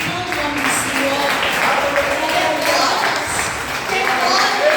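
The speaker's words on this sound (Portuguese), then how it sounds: "aplauda glorificando o nome do Senhor" A church congregation applauding together in worship, a steady wash of clapping that holds for several seconds, fairly close and full, with a murmur of voices and cheers mixed in.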